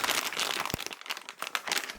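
The plastic bag wrapping a Harman Kardon car speaker for a BMW F10 crinkles and rustles up close in quick irregular bursts, with a sharp crackle partway through.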